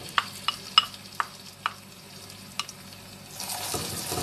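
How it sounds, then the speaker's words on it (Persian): Tomato paste frying and being stirred with golden onions in a pan, a soft steady sizzle broken by several sharp spoon or spatula clicks against the pot, ending in a louder burst of sizzling. "یک مقدار روب رو تفت میدم"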